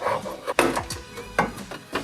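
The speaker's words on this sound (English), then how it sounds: "use this end of your pry tool to pop all these little rivet holders that hold the wire in place." Plastic pry tool popping wire rivet holders loose inside a BMW door panel, a few sharp clicks and snaps with light scraping between them, close and distinct with no talking.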